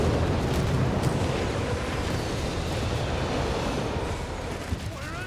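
Rumbling artillery barrage explosions in Company of Heroes 3, a dense, continuous roar of booms and blasts that stays loud and steady throughout without pause.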